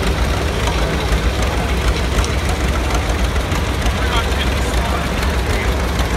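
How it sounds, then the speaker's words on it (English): A 1939 John Deere B tractor with a mandrel saw mounted in front runs steadily at a parade, its low engine rumble continuous and loud under a busy outdoor crowd background. "1939 John Deere B with a mandrel saw up in front"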